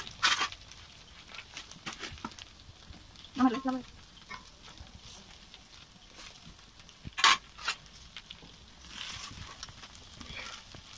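Black cumin seeds tempering in hot oil, a soft steady sizzle with stirring clatters and a few sharp metallic clinks of a spoon against the pan.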